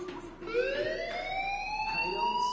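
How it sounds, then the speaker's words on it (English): Fire alarm in the video game Life is Strange, a loud, continuous electronic tone that sweeps steadily upward in pitch and holds close and clear throughout, with no talking over it. "Hey, do you hear that fire alarm? That means you should be outside."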